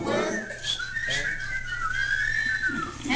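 A group whistles a tune at a retirement gathering, a steady, bright melodic line running throughout, clear and moderately loud against light room noise.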